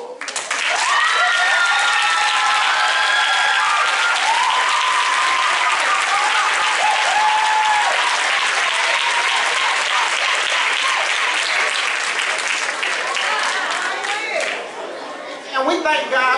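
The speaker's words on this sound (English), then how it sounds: "Get him another sign of applause." An audience at a church women's convention applauds loudly and continuously, with cheering voices and a few shouts mixed into the sustained clapping.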